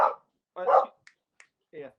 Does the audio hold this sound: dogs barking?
yes